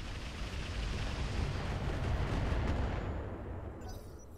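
Mech weapons fire in the BattleTech Roguetech video game, a dense rumbling barrage of blasts and booms that swells and then fades into a faint crackle near the end.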